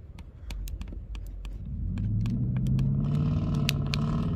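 A truck engine idles and rumbles nearby, its low growl swelling louder midway as the engine picks up, with sharp clicks and small rattles scattered over it and no talking.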